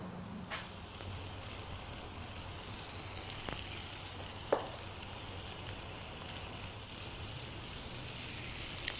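Cocktail balls frying in a pan over lower heat, giving a steady, even sizzle throughout with a few faint clicks and taps now and then.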